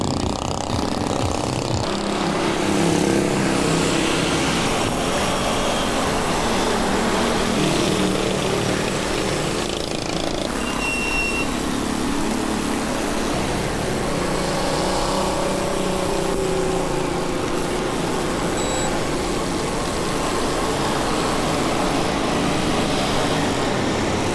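A motorcycle engine droning steadily nearby, a continuous buzzing whine that rises and falls slightly in pitch as it revs, loud and sustained with no voices over it.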